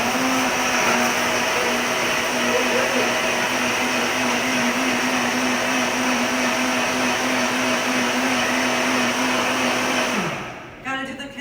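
Kitchen blender whirring through a jug packed with vegetables, a loud steady high motor drone held for about ten seconds before spinning down and cutting off.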